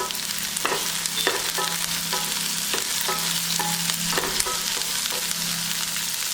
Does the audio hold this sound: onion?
yes